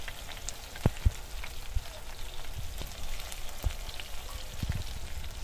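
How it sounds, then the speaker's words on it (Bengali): Tilapia fish frying in oil, giving a steady crackling sizzle with scattered sharp pops and spits, moderately close, without talking. "আর এইখানে আপনার মা এখন মাছ ভাজতেছে রান্না করার জন্য"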